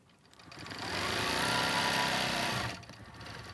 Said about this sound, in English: And then I sew down to my chalk line, and then I just reverse it like this.